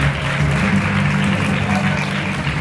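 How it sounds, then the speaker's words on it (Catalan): Steady applause from an audience at a school or student event fills the whole stretch, dense and continuous at an even level with a low murmur beneath. "Fort aplaudiment."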